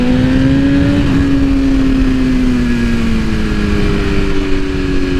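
A 2022 BMW S1000RR motorcycle with a Brentuning stage 2 exhaust and air filter accelerating on gentle throttle, its loud steady engine drone rising in pitch and then easing, recorded close up with no voices.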